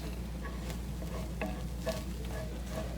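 Sausage fries in a pan with a steady sizzle, broken by a few soft scraping stirs.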